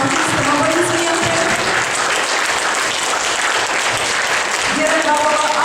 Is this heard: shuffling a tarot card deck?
no